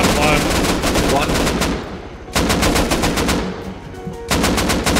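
Automatic rifle fire in the game Rust, loud, fast repeated bursts close by, broken by short gaps, with dense rattling shots filling most of the stretch.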